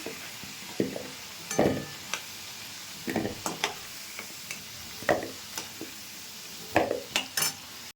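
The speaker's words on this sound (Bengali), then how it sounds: "আলুটা ভাজা হয়ে গেছে, নামিয়ে নিচ্ছি।" Fried potatoes are lifted out of hot oil for a matar aloo soybean curry, with sharp metal scrapes and clinks of a spoon against the pan in scattered bursts over a faint background sizzle.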